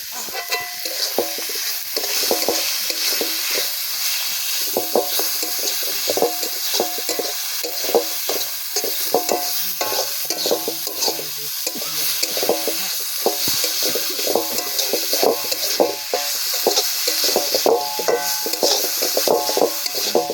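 Chicken pieces for chicken pocket fry sizzle steadily in hot oil in a home kitchen, with frequent scraping and clinking of a spatula stirring the pan, fairly loud and continuous with no talking.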